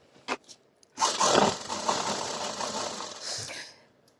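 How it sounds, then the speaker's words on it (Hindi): A sewing machine stitches a salwar waistband in a round. After a few faint clicks it starts up and runs for about three seconds with a steady mechanical whir, then stops. "तो ऐसे राउंड में स्टिच करते चले जाना है आपको।"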